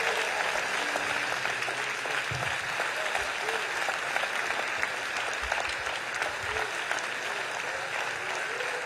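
A church audience at a Christian symposium applauds steadily to welcome a pastor, producing dense, sustained clapping that stays at an even level from start to finish.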